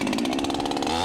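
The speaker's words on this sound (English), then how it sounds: "The chainsaw produces excessive vibration and noise" A logger's chainsaw revs loud and close in a forest while cutting trees, its engine buzzing with a rapid, pulsing vibration for about a second.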